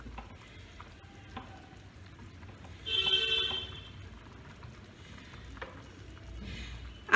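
Pieces of katla fish hit hot oil with a sudden swell of sizzling and hissing, then settle into a quieter, steady crackle of frying.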